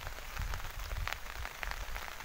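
Steady rain falls on farmland in Paonta Sahib, Himachal, where coriander and strawberries are planted, as a dense, continuous hiss with scattered nearby drops, no voices.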